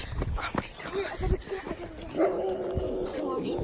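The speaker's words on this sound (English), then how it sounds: "There's a dog." A dog on a residential lawn barks and yips a few times at moderate distance, mixed with people talking and outdoor movement noise.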